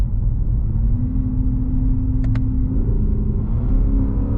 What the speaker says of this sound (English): we're gonna keep it in our sport mode, and then we're gonna flick a few downshifts